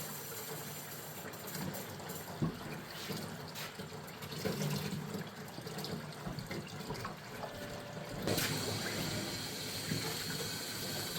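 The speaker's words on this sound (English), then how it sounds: "We're going to get the hot water flowing." Hot water runs steadily from a tap while cleaner and degreaser is mixed for prepping Toro mower deck spindles. The stream is a continuous near splash, briefly louder near the end, with no talking.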